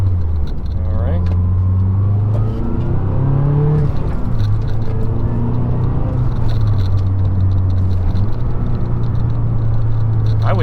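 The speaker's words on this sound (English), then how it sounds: "I love being able to hear the engine" A 2012 Mazdaspeed 3 engine with a newly installed transmission motor mount drones and revs in steady low harmonics, rising and falling in pitch across the clip, close and loud.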